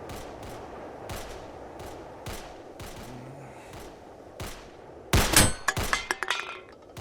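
Sharp gunshots fired at cans, a string of spaced single reports followed by a loud louder burst of rapid shots with metallic ringing near the end, against a steady outdoor background.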